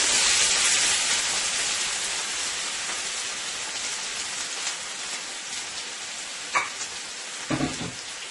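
Seasoning hits hot oil in a pan for a Guyanese butterfish stew, bursting into a loud, steady hiss and crackle that slowly settles, with a few clinks of a utensil near the end.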